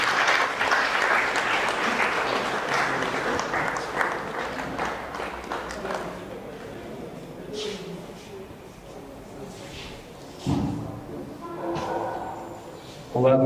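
Applause at a graduation-style ceremony honouring top baccalaureate students in Bargny: an audience claps steadily and loudly for several seconds, then tapers into scattered claps and murmuring room noise.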